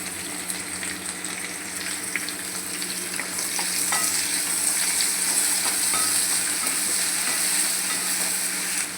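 Onion frying in hot oil with garlic in a pan, a steady bright sizzle that swells louder partway through, with occasional scraping stirs, close and alone.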